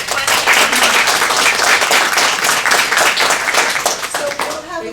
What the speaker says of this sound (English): They were clapping, Deb